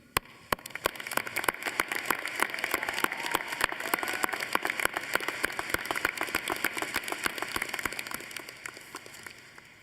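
A high school graduation audience applauds, scattered sharp individual claps blending into a sustained, moderately loud patter that carries on to the end.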